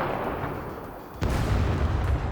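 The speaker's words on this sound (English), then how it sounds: "This is just an improvised thumper." An improvised thumper grenade launcher in the SCUM video game fires a 40mm high-explosive fragmentation grenade: one sharp, heavy report midway, followed by a loud, rumbling low boom that carries on to the end.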